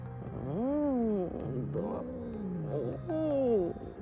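A house cat gives long, low, wavering growls that rise into drawn-out yowling moans. The sound is close and sustained, with a short break between the growls.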